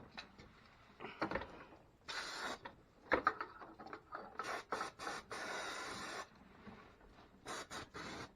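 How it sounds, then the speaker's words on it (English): Scrubbing at a power steering bracket on a 1984 Mustang, close and fairly faint: irregular bursts of rough rubbing and rasping strokes broken by short pauses, with no one talking. "I'm going to try to clean this bracket up a little bit"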